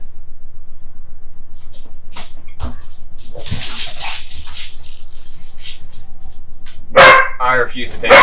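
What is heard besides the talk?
dogs playing and barking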